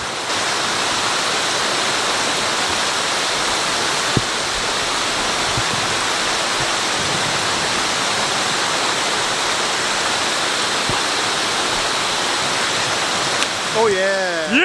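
A hidden waterfall roars as a steady, dense rush of falling water, loud and constant throughout, with a brief voice or tonal sound near the very end.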